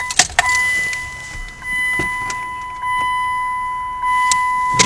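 A Plymouth Breeze car door opens nearby: several sharp clicks and clunks of the latch and handle over a steady low hum, with no voices.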